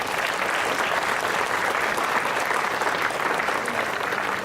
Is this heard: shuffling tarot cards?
no